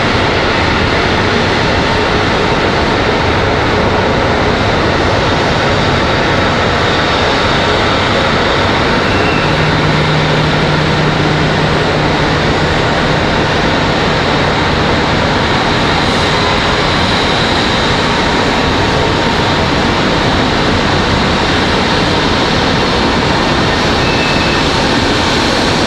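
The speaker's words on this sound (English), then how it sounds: "We've got Delta 1337 coming in from MCO." A Delta airliner arriving at Raleigh-Durham International Airport, a loud, steady broadband jet roar that holds evenly for the whole stretch, close and unbroken, with no voices over it.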